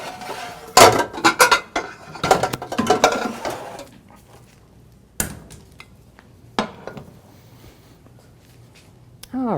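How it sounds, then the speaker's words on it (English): A baking pan being picked up and handled in a home kitchen, giving several sharp metallic clanks and clatters in a busy first half, then a few isolated knocks and scrapes among quieter pauses. "Grab my other pan here."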